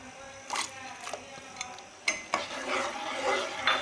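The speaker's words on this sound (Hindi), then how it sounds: "अब इस अक्सर चम्मच चला के, ताकि नीचे लगे ना, इसको मैं पका लेती हूँ।" A spoon scraping and clinking against a pan while stirring suji halwa with cardamom and raisins, in irregular close strokes with a faint background hiss.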